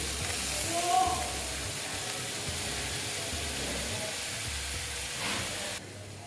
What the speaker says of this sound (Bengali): দেখো পেঁয়াজটা আমি ভালো মতন ভেজে নেব